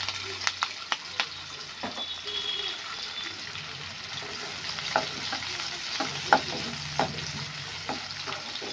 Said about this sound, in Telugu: ఇదే ఆయిల్లో కొద్దిగా పచ్చిమిర్చి, కొద్దిగా ఉల్లిగడ్డలు వేసుకొని ఫ్రై చేసుకోవాలి.